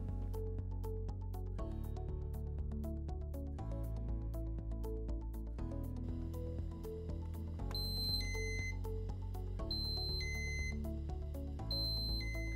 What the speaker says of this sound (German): Der PROC-Alarm wird angezeigt, wenn keine Laufrate eingegeben wurde.